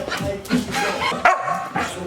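Pet dog nearby gives a few short barks and yips, mixed with whimpering, in an indoor space where a person is also talking.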